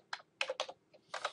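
Short bursts of keystrokes on a computer keyboard as a command is typed, a few quick clusters of taps with brief pauses between, close and fairly quiet.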